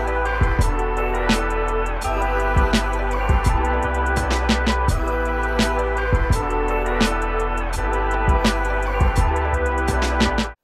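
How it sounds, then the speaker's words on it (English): A pitched horn loop from the Somatics collection, thinned by a high-pass filter and washed in reverb, repeats in a steady groove with punchy drum hits over a loud, continuous boom-bap beat. "It's another loop from Somatics, just a super horn loop"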